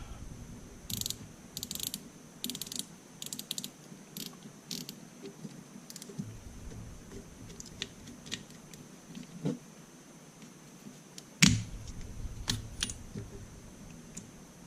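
Light clicking from the ratchet of a Sixgill fishing reel, quick irregular bursts of small mechanical clicks, close and fairly quiet, with one sharper snap partway through and no talking.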